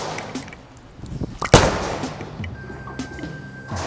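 A Storm Ion Pro bowling ball strikes the pins on a bowling lane: one sharp loud crash after a low rolling rumble, followed by scattered rattling clatter, with a faint tone continuing in the background.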